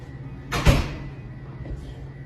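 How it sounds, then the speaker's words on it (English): Knock inside a supposedly haunted, empty building: a single sharp, fairly close thump followed by a fainter second knock about a second later, over a quiet room hum. "Did you hear the knock?"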